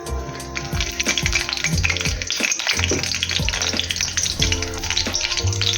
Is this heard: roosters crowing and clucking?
no